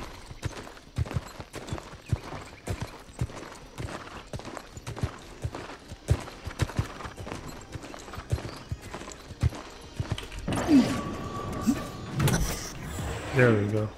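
Steady clip-clop of horse hooves trotting at an even pace in the game New World, with game sound effects and a brief burst of louder noise near the end.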